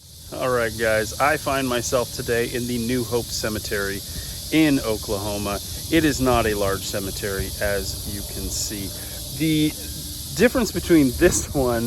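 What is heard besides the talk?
loud cicadas in trees in an Oklahoma cemetery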